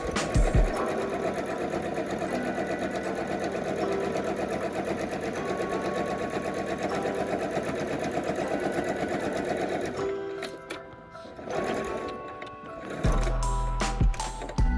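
A sewing machine stitches a pleated rectangular fabric mask in one long, loud, continuous run of rapid stitching, then stops near the end, leaving handling noises and clicks from the fabric and machine.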